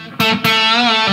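A distorted electric guitar plays a short, slowed-down bit of a riff: two quick staccato plucks followed by a held, buzzing note, loud and close with no talking.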